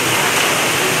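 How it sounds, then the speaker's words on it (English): A zoo waterfall splashes steadily inside a prehensile-tailed porcupine enclosure at Mesker Park Zoo in Evansville, Indiana, making a dense, even rush of falling water with no breaks and no voices. "He's got the nice waterfall."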